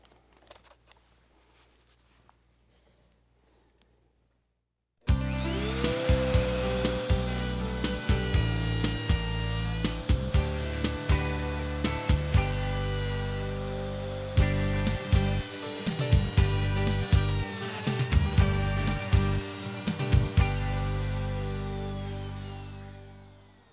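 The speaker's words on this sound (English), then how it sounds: "I'm going to use a palm router here and a pattern bit with the bearing on the top." A palm router with a bearing-guided pattern bit whines steadily at close range for about twenty seconds, its high motor tone broken by repeated chattering cuts into wood for a workbench, after a short quiet start.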